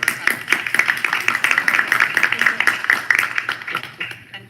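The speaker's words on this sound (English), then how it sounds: "Glenn is very concerned that we did not clap after the transit" Council members applaud together at a city council retreat, a steady stretch of close, loud clapping that tapers off toward the end, with voices mixed in.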